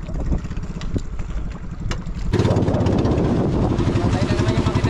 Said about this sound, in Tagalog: Matay na naman yung makina ni Budinay.